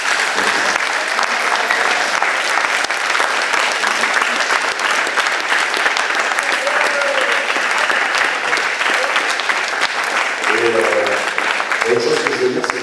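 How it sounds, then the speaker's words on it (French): Sustained, loud applause fills the room at a rugby club's annual general meeting, a broad crowd clapping steadily throughout, with a few voices faintly rising near the end. "je voudrais qu'on l'applaudisse très fort"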